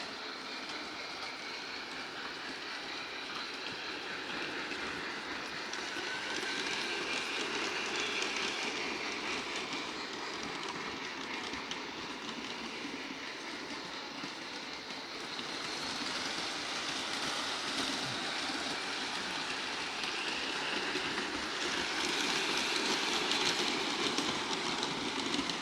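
A Bachmann Big Hauler model train running without oil on track, a soft continuous rolling whir and rattle that holds steady throughout, faint and alone without any talk.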